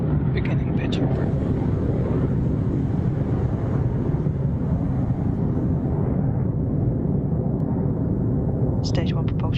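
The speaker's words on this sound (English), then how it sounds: "Successful liftoff for Electron from Launch Complex 1" A Rocket Lab Electron rocket lifting off from Launch Complex 1B at Mahia, New Zealand, a loud, continuous low rumbling roar that holds steady throughout, with a brief crackle near the end.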